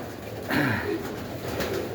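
Pigeons, said to have been brought from Baku, cooing close by in a short soft burst of low throaty calls, with no talk.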